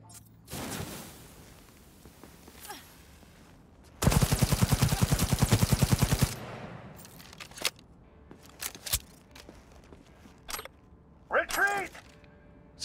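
Smart weapon gunfire in Cyberpunk 2077: a loud rapid automatic burst of about two seconds, then scattered single shots and mechanical clicks, with voices talking around it.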